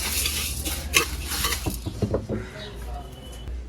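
Fried flattened rice (chira) rattles and scrapes as it is tipped from the pan into a bowl, with sharp clinks of a utensil against metal and some background talk.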